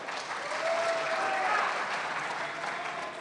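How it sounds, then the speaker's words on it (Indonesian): Audience applause at a 2015 Kutai Barat regent candidate debate, a steady wash of clapping from a hall full of people that holds evenly for a few seconds, with a faint tone running underneath. "mari kita memberikan tepuk tangan untuk calon nomor urut 3"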